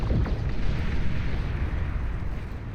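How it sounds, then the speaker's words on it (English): Dense, continuous rumble of overlapping bomb explosions from a large bomber raid in the RTS game Beyond All Reason, with booming bursts rolling together into one loud, sustained roar of destruction. "More bombing all over the place. Beautiful, beautiful destruction."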